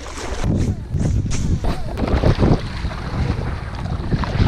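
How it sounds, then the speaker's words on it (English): Strong wind gusting across a lake while fishing for bass in Michigan, with heavy, constant roaring buffeting of the microphone, rough low rumble and faint lapping water throughout. "that wind was absolutely unreal out there"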